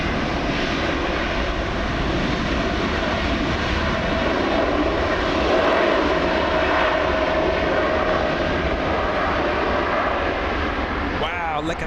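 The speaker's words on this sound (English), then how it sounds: "Touchdown by the first German double-decker" A Lufthansa Airbus A380 double-decker touches down on runway 24 left at LAX, its engines a loud, unbroken broadband roar throughout, with a voice talking over it.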